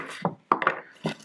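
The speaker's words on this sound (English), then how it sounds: "Now, first of all, I'm going to cut up this turnip," Knife cutting up a turnip on a board, three short close thuds and crunchy chops in quick succession, with no talk.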